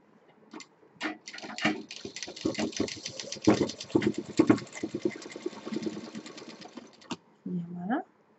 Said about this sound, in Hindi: इसको यहाँ पर मोड़ देंगे, मोड़ के और सिल देंगे इस तरह से।